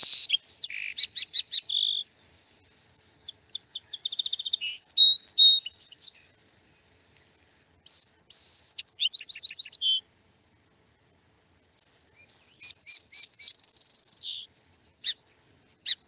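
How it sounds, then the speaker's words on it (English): A song sparrow sings in spring, close and clear against silence: bursts of rapid trills, buzzes and sharp chirps delivered in phrases with brief pauses between them. "that's a song of a song sparrow."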